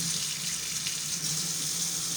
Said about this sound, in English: Alright guys, now I'm washing dishes.